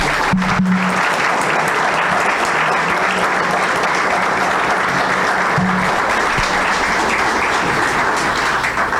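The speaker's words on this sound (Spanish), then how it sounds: "a quien damos un fuerte aplauso" An audience bursts into loud, sustained applause at an award ceremony, a dense, even clapping that fills the whole stretch with no talking over it.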